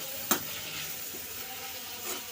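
Deseeded bitter gourd pieces are stirred in a pan, a steady faint sizzle with one sharp scrape of a utensil near the start, close up and without talk.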